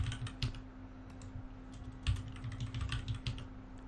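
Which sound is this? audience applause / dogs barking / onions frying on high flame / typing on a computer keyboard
typing on a computer keyboard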